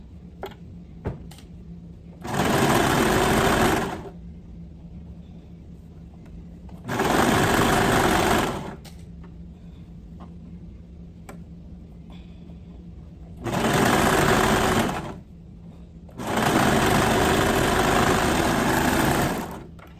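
A sewing machine stitches fabric leg bands for baby bloomers in four steady bursts of a few seconds each, whirring loudly with quiet pauses between, no talking.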